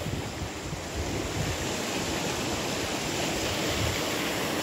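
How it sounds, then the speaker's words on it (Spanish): The flooded Magdalena River rushes past in a dense, continuous roar of churning water, loud and close, with wind buffeting the microphone and no voices. "el río Magdalena tiene un nivel bastante temeroso, peligroso, da miedo"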